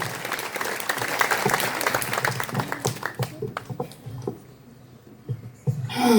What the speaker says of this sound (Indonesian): Tepuk tangan bagi Yesus yang maha kuasa.